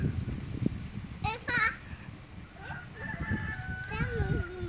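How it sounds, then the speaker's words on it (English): Chickens cluck and a rooster crows nearby in rural Dunlap, Tennessee, while people talk over them, the crowing rising in short bursts between the voices. "Can you guys hear the chickens barking?"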